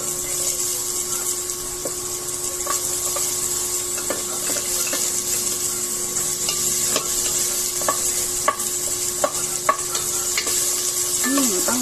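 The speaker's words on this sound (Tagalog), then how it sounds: "igisa natin ang bawang. Sunod natin ang sibuyas at luya" Garlic, onion and ginger sauté in hot oil in a pan for salmon belly sinigang, giving a continuous close sizzle with scattered clicks and scrapes from stirring, and no talk.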